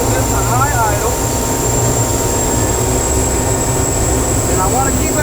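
A jet engine running and being moved up to high idle, a loud, constant roar with a steady high whine on top, near and continuous throughout.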